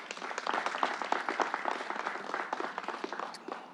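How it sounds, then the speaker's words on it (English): Audience applause at a governor's event at a vaccination site, a moderate, slightly uneven patter of individual claps that keeps going for nearly four seconds. "Let's give him a round of applause."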